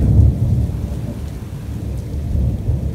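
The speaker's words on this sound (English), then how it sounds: "And the rain's picking up." Heavy rain falls steadily during a thunderstorm on a hike, with deep rolling thunder rumbling loudly and continuously underneath, no voices present.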